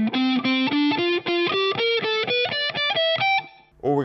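A distorted electric guitar plays a rock-metal string-skipping legato fingering pattern across all six strings, a fast run of evenly spaced notes climbing steadily upward, loud and close, ending on a brief lower chord.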